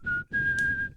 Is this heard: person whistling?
yes